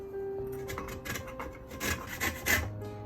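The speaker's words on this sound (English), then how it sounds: "now that we have grated lemon zest" Fresh lemon zest grated on a grater for a lemon cake, a series of raspy scraping strokes growing louder toward the end, close and alone.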